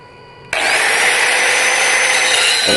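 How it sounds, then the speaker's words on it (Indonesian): A power tool cuts through a broken bolt just above its nut: a loud whining grind starts abruptly and holds steady at close range for about two seconds before easing off. "Jadi motong bautnya ini nanti di atas mur."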